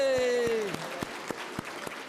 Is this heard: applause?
yes